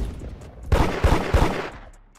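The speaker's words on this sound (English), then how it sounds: "Oh, this one's trying to shoot me too. They're trying to shoot me too." Gunshots in the Roblox game Da Hood come as three loud, close, evenly spaced bangs in quick succession, each with a short crackling tail that fades away afterward.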